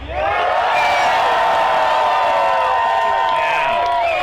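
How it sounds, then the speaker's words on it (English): Outdoor crowd at a spoken-word comedy showcase at a country fair stage yells and screams together in a loud sustained roar of overlapping shouts and whoops, close and dense throughout. "let's all yell and scream much louder than that crowd over there"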